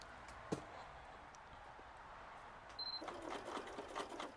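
A sewing machine stitches a spiral into the centre of a wool flower embellishment. After a quiet pause with a single click, a soft, close run of stitching starts up and continues to the end.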